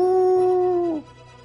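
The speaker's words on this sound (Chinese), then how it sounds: "受到这一声嘶吼的影响，大黄狗也是控制不住兽性，对月长啸" A big yellow dog lets out one long, loud, sustained howl that holds a steady pitch and then bends downward and fades, heard up close and alone.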